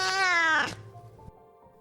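A cat gives one drawn-out, harmonically rich meow that rises and falls before stopping abruptly, followed by a quiet stretch with faint low hum and a small knock.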